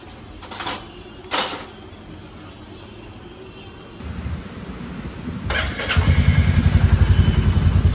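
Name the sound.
motorcycle first cold start in the morning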